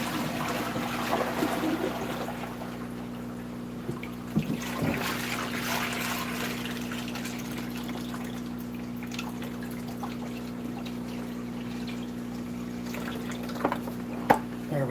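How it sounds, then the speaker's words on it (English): Water drains from a bucket outdoors, giving a steady low trickle with occasional drips and splashes, over a constant mechanical hum and without speech. "Go ahead and drain this bucket here real quick of all the excessive water."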